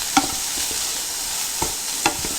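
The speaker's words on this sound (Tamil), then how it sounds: "சும்மா 2 நிமிஷம் மட்டும் வதக்கிக்கலாம்." Cooked chicken samosa filling is sautéed in a pan, a soft continuous sizzle broken by a few sharp spatula clicks and scrapes.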